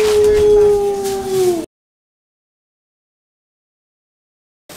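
A dog gives a single drawn-out howl that bends downward in pitch for about a second and a half, close and clear, then cuts off abruptly into silence.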